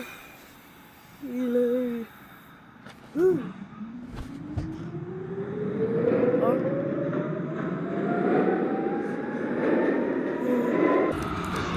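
A Brooklyn-bound New York subway R train at Whitehall Street–South Ferry, heard from the platform: brief tones and a squeal, then a rising electric motor whine and rumble as the train builds speed, loud and sustained.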